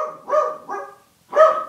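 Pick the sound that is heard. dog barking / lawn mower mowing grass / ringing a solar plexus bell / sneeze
dog barking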